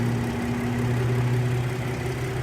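A 2012 Ford F-150 XLT with a 3.5-liter V6 EcoBoost engine idles close up under the hood, a steady smooth hum with a low droning tone and no speech.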